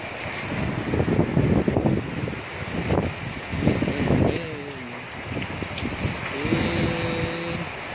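Strong Typhoon Ulysses wind roars and gusts in uneven surges around the microphone, loud and close, while voices murmur and call out intermittently over it.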